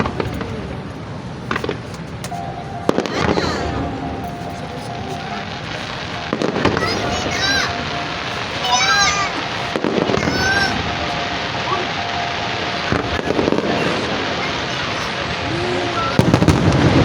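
A German pyromusical fireworks display by Steffes Ollig Feuerwerke at the Philippine International Pyromusic competition sends out repeated booming bursts and crackles, some near and heavy, while spectators talk throughout.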